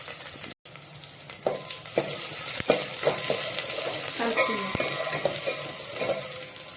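Whole garam masala spices fry in a pan for a kitchari, giving a steady close sizzle with occasional stirring scrapes and clicks throughout.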